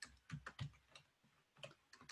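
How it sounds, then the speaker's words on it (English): Hard, fast strikes on a computer keyboard, clacking in irregular close bursts of several keys with brief pauses between them, loud and near. "I apologize if that typing was super loud. I tend to attack my keyboard"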